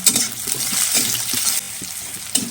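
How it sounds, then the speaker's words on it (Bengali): Chopped onion fries in a pan with a steady sizzle while it is stirred, and occasional soft scrapes and knocks of the utensil are heard close by. No voice is heard. "একটা গোটা পেঁয়াজ কুচি নিয়েছি দিয়ে দিলাম দিয়ে চাড়া দিয়ে কিছুক্ষণ ভেজে নেব"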